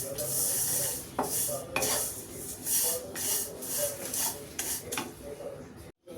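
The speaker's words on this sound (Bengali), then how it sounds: "আমি এর মধ্যে একটা দারচিনি দিয়ে দিচ্ছি, দুই তিনটা এলাচ দিয়ে দিচ্ছি। এটার সাথেই ভেজে নিচ্ছি।" Dry vermicelli frying in a pan with a cinnamon stick and a few cardamom pods, giving a steady close sizzle broken by scraping, clinking stirs against the metal pan and a brief drop-out near the end.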